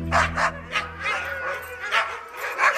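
Alaskan Husky sled dogs barking and yipping excitedly in a team, repeated overlapping barks and whimpers close by, with some faint voices.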